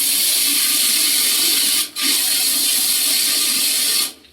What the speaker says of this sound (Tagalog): Water's flowing through. It's nice and strong.